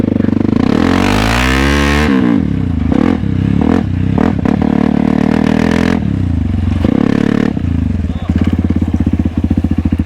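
Off-road motorcycle revving on a dirt warm-up lap, engine rising and dropping through throttle blips with clattering, ending in a steady rapid putter, while someone speaks over it.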